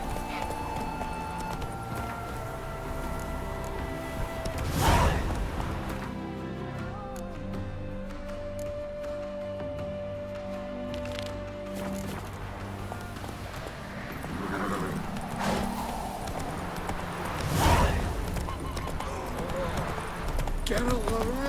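A horse gallops in The Witcher 3, its hooves beating a steady rhythmic clip-clop that continues throughout, with a few louder impacts and occasional in-game voices.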